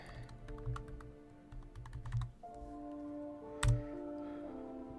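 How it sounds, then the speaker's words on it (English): Clicky typing on a computer keyboard, a quick run of close keystrokes in uneven bursts, fairly quiet and with no one talking. "gotta go to my channel and type in Halloween"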